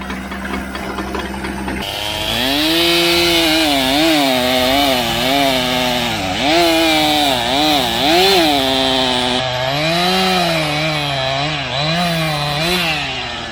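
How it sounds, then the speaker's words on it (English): A slightly dull chainsaw cutting through big oak timber on a narrow ridge, loud engine whine rising and dipping in pitch as the chain bites into knots and grain, alone without talk. "My saw is getting a little bit dull, needs to be sharpened, especially on some of those big knots where you're cutting into the grain."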